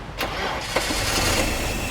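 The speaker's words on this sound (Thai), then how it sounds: "ก่อนที่จะเคาะเราต้องมาติดเครื่องก่อนนะฮะ ต้องติดเครื่องก่อน" A petrol car engine with fuel injector trouble turns over and starts, then runs with an uneven, shaky idle, fairly close and steady throughout.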